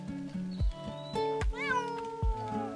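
A street kitten meows several times in short, insistent calls, close and clear with no talking.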